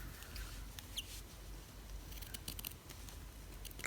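Small scissors snip around the outside stitches of Hardanger embroidery fabric, producing faint, irregular crisp cuts close to the microphone in a quiet room.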